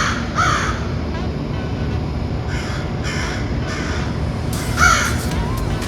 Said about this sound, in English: There will be crows in the background, which I think is absolutely charming.